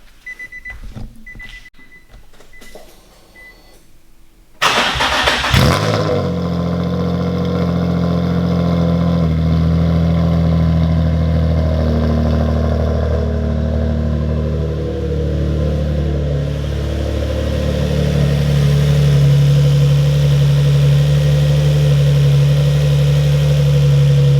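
A Nissan Infiniti G35 engine cranks briefly, then catches and settles into a loud, steady idle that runs on close by, with faint quiet activity before the start.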